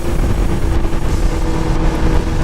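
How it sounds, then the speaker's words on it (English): Heavy, steady wind roar from strong crosswinds buffets a riding motorcycle, a dense low rumble holding loud and unbroken throughout with engine drone mixed in. "Crosswinds here are fucking horrendous"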